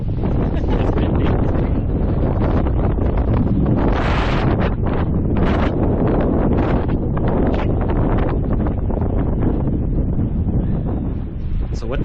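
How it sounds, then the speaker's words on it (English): Strong wind buffets the microphone in Clark's Fork Canyon, Wyoming, a steady roar of gusts lasting throughout, with voices faintly beneath it. "It's windy."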